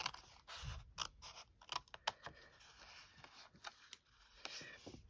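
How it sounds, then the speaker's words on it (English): Scissors cut the end flap of a small paper treat box, giving a quiet series of crisp, irregular snips and paper rustles close by, with no talking. "I'm going to cut the end flap first"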